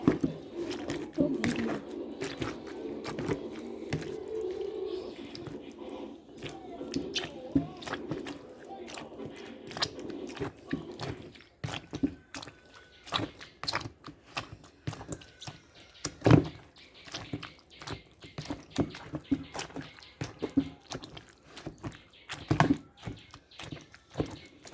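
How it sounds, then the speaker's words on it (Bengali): Hot cooked jujubes (boroi) being crushed with a wooden dal masher for pickle, giving a run of irregular, close, soft thuds and squishy knocks that quicken toward the end. "এরকম একটা ডাল ঘুটনির সাহায্যে আমি এগুলোকে থেতলে নেব।"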